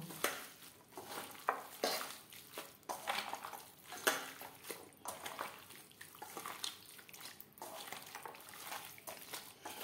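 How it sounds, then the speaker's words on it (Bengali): Raw mutton mixed by hand with red chilli powder, bay leaf and other spices for a Bengali potato mutton curry, with repeated wet squelching and slapping squishes in a loose rhythm, close and fairly quiet. "মশলার সমস্ত উপকরণ দিয়ে মাংস বেশ ভালো করে মেখে নেব।"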